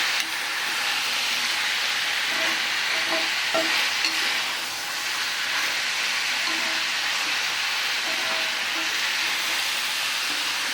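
Pallipalayam chicken fry with coconut being stirred in a hot pan, a continuous sizzle with repeated spoon scrapes and knocks, close and steady throughout.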